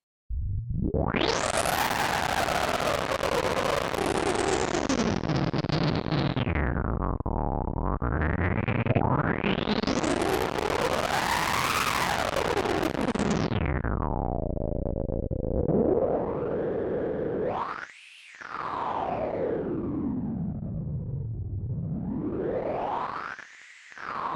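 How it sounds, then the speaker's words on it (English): Harsh, distorted synthesizer noise from a Crumar Spirit software synth, red noise through an overdriven low filter, sweeps slowly up and down in pitch, resonant and glitchy, loud and continuous with a couple of brief dropouts. "the overdrive lower filter really brings out some strange and glitchy tones from the red noise source"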